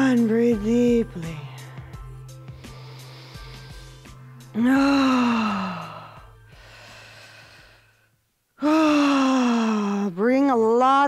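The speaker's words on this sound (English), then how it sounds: "And breathe deeply." Heavy, drawn-out breaths and gasping exhales from people during a guided movement and relaxation exercise, coming in loud, close waves with pauses and occasional voiced groans between them.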